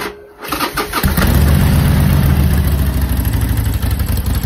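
A Harley-Davidson motorcycle with new mufflers and its heat shields removed cranks and catches after a brief quiet moment, then settles into a loud, steady, throbbing idle with a rough low rumble.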